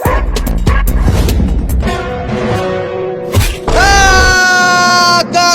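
A cartoon dog yaps and barks in a kids' animated show, with sharp rapid yips at first, then drawn-out whining, howling calls, loud and close.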